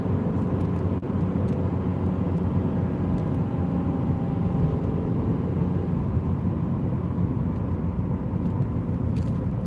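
A car engine holds about 3,000 RPM in sport mode on a cold day, a steady low droning hum with road rumble, continuous and close, no voices.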